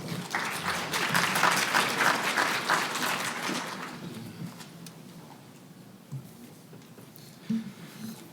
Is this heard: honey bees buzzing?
no